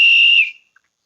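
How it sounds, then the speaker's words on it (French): A sharp high whistle from the DCC sound module of an LS Models BB 22378 model locomotive sounds once for about half a second, then cuts off, followed by a tiny faint click. "F9, on a donc un bruit de sifflet"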